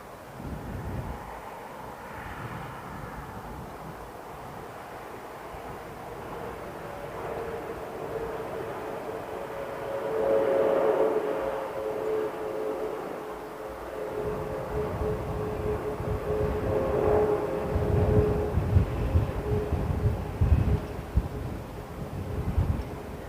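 An airliner going around at London Heathrow Airport produces a distant, sustained jet roar that slowly swells and rumbles over wind noise on the microphone, with no talking.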